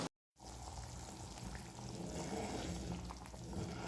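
A pot of sombu (fennel) kurma bubbling and simmering steadily on low heat, a continuous broadband hiss of boiling liquid close by, with no voices.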